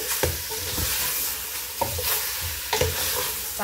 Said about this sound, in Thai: คั่วแบบนี้ไปเลยไม่ต้องใส่น้ำนะคะ